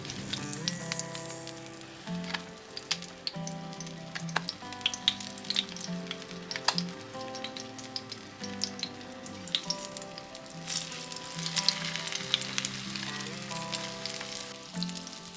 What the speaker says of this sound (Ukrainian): Смажимо.